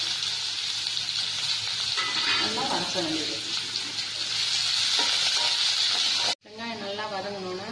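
Chopped large onion, small shallots and garlic sautéing in a pan. A steady hiss of frying runs throughout, with a brief cut and a short voice-like tonal sound near the end.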